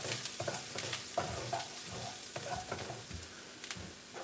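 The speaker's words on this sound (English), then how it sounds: "Garlic. Just cook that for about a minute." Chopped garlic fries in a pan as part of a Thai prawn noodle dish. Soft sizzling runs throughout, broken by repeated stirring scrapes and clacks at close range, with no voices.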